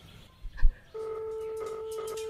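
A telephone tone in a Minecraft rewind transition: a soft thump, then a steady electronic ringing or dial tone that holds at moderate loudness to the end.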